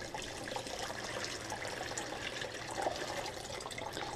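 Liquid extract from a worm bucket reservoir is poured through a strainer lined with cheesecloth or paint cloth, giving a soft, steady splashing trickle that runs evenly for a few seconds at close range.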